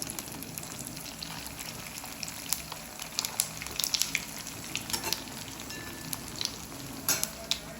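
Grated potato vadas deep-fry in oil with a steady, dense sizzle and bubbling crackle, close and even throughout, with occasional light pops and faint scrapes, and no voices.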